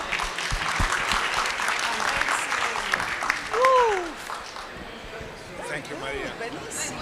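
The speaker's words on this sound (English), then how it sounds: "Please, an applause." Audience at a conference panel applauds, a moderate wash of clapping that fades out toward the end while a voice speaks over it.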